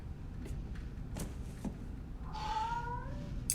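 A cat in a Battlestar Galactica episode gives a drawn-out meow late in the scene, faint and distant over a low soundtrack hum with a few soft knocks earlier.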